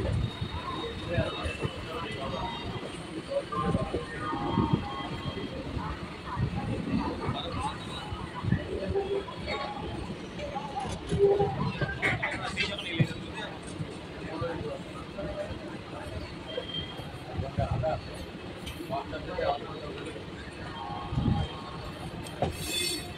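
A train pulls into platform 21 at Howrah station, rumbling and clattering with intermittent wheel squeals and scattered knocks, while people talk over the noise throughout.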